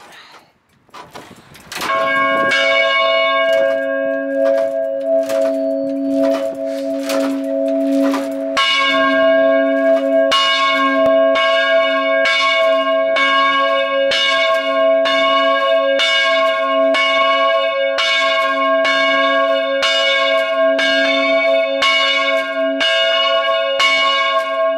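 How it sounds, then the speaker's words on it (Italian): Church bells of Santa Maria in Castel del Piano, Perugia, ring a rinterzino peal, with the second bell swung and the third and fourth chimed. Loud, close, sustained ringing begins after a quiet start and builds into rapid repeated strikes over a steady humming tone. "La settima suonata è un rinterzino con la seconda a bicchiere e terza e quarta a"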